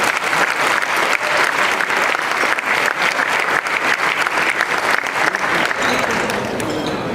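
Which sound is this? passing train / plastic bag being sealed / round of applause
round of applause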